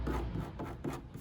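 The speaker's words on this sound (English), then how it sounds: "we're just sanding the entire edge where the urethane is gonna meet." Abrasive sanding of a van's edge where urethane bed liner will meet rubs back and forth in a steady rhythm, close up, with a coarse rasping texture and no talking.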